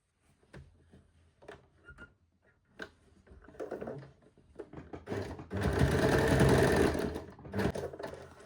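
A sewing machine stitches the lining of a double umbrella frock, starting with scattered clicks and short bursts of needle chatter, then running into a loud, rapid, steady whirring stitch run near the end.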